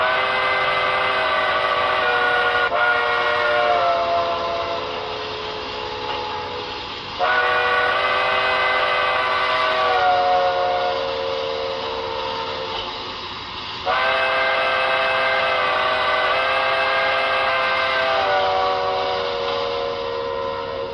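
A brass hybrid New Haven I-4 model locomotive's steam whistle blows in three long blasts, each swelling and fading as it is quilled, with the pitch bending within each blast.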